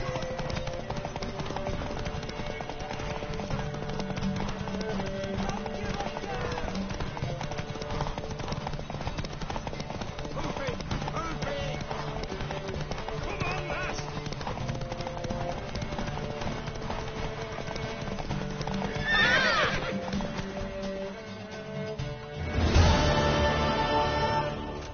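Hooves clip-clop steadily through a horse race in The Witcher 3: Wild Hunt, a continuous rhythmic patter of galloping under game music, with a brief burst of louder hoofbeats and commotion near the end.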